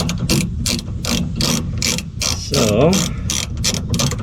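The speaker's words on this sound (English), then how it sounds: "I was able to find a ratchet that would fit, which is nice." A hand ratchet clicks in rapid regular bursts while tightening bolts during installation of a Dee Zee rear bumper step on a vehicle, close and loud, with a brief spoken word.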